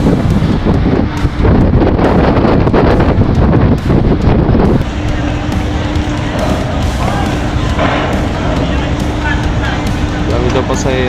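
Strong wind buffets a passenger ship deck, a loud continuous roar of gusts across the microphone with engine rumble beneath and people talking nearby throughout.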